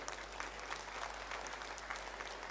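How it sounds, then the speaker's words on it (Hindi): A crowd applauds at a Haryana political rally, a dense, even wash of clapping heard from some distance and fairly faint, continuing steadily throughout. "एक बार जोरदार ताली बजाइए"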